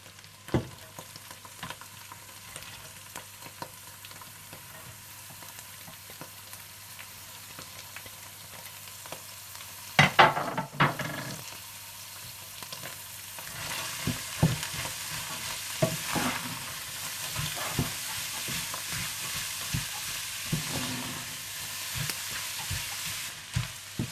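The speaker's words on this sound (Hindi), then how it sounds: "जब कीमा अच्छा सा भुन जाए तो आप इसमें गाजरें और सेलरी डाल दें और अच्छा सा भून लें" Minced meat frying with carrots and celery in a pan, a steady crackling sizzle under repeated scraping and stirring strokes that grow busier and louder partway through, close up with no voices.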